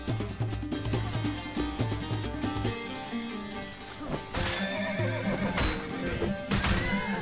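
Horses whinny and neigh amid a loud, dense medieval battle in the Mount & Blade game, with clashing crashes, thuds and hoofbeats layered over a constant busy din throughout.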